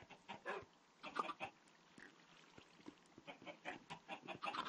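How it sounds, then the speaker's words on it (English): Minecraft chickens in a Skyblock game cluck in short repeated bursts, soft and fairly distant, an irregular string of calls with no talking over them. "I hear some chickens laying some"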